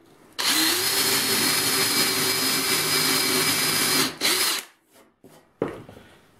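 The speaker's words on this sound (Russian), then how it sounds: "сверлим отверстие" A power drill with an 8 mm bit boring a hole for a hidden screw, a loud steady whine lasting about four seconds, then a brief stop, a short burst and a final restart.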